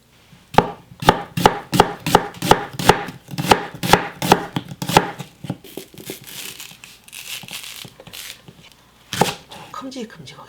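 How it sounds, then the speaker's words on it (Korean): A knife chops beef bulgogi ingredients into large chunks on a cutting board, giving a quick run of crisp, evenly spaced thuds up close. The chops then slow to sparse knocks and rustling. "좀 큼직큼직하게 썰어."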